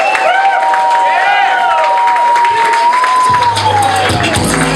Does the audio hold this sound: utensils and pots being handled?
no